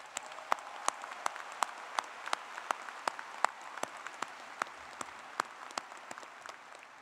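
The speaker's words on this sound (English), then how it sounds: "I think you all deserve a loud round of applause." Sustained applause from a large audience at a Clemson University graduation ceremony, with dense steady clapping and sharp individual claps standing out throughout, continuous for several seconds with no speech.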